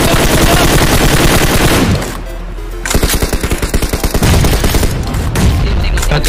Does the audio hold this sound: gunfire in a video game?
yes